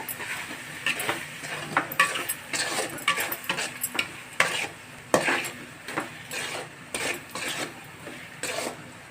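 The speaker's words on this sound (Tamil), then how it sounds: "அதை போட்டுட்டு நல்லா பிரட்டிக்கோங்க" Goat brain frying in oil in a pan is stirred, with a soft sizzle under frequent clinks and scrapes of a spoon against the pan, coming in uneven bursts close by.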